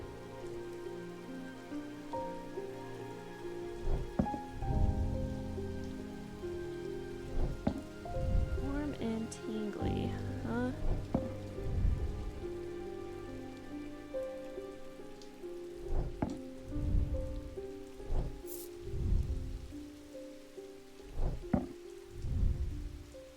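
Steady rain pours down in the video game Strange Antiquities, a continuous wet hiss with scattered louder drops and thumps, plus what may be distant thunder rumbles around the middle.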